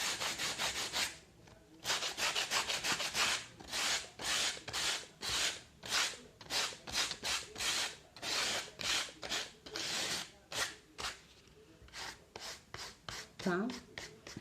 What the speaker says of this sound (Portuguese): Aí vocês vão passar a lixa de leve,